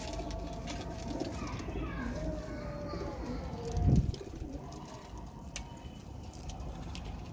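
Golden Kamagar pigeons coo softly and steadily at a distance, with a brief louder thump partway through and light background rustling.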